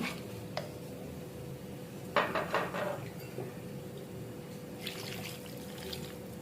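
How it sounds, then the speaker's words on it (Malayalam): A cup of water poured into a pot of aviyal, the Kerala mixed-vegetable curry, giving a couple of short, soft splashing trickles over a quiet kitchen background hum. "ഒരു കപ്പ് വെള്ളം ഞാൻ ഇപ്പോൾ ഒഴിച്ചു കൊടുക്കുന്നുണ്ട്"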